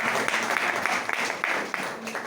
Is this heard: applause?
yes